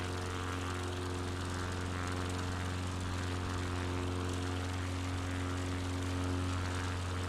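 Propeller airplane engine in Microsoft Flight Simulator during an Alaska bush flight, a steady droning hum with strong tonal harmonics, continuous and even in loudness from start to finish, with no talking.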